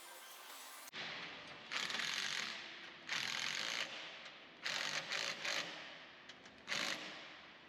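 Ratchet wrench clicking in repeated short bursts while KDSS spacer bolts are tightened on the driver's side of a 5th Gen Toyota 4Runner, close and fairly quiet with pauses between runs.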